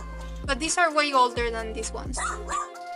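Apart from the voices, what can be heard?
dog barking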